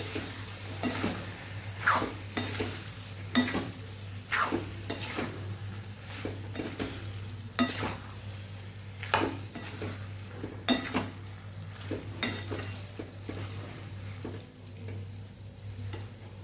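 A spoon scrapes and knocks against a pan in a steady stirring rhythm as cauliflower and pea curry is mixed, repeated clinks over a low background hum and faint sizzle.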